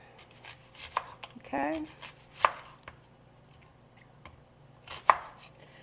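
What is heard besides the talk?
knife chopping white onion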